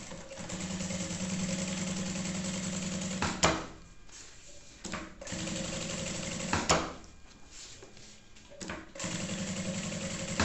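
Domestic sewing machine stitching synthetic fabric for a maternity bag, running in three steady bursts of mechanical whirring separated by short pauses with fabric handling, close and fairly loud.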